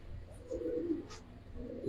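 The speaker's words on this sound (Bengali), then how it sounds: "সম্পূর্ণ ইয়েং কবুতর" Young pigeons, a male and a female, coo in low murmuring phrases, soft and close, with a brief quiet gap before the cooing resumes near the end.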